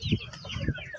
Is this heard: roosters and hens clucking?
yes